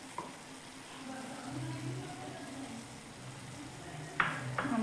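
Purslane bhaji being stirred in a pan with coarsely ground peanut powder, giving a soft steady sizzle and low scraping, then a couple of sharper spatula clacks near the end.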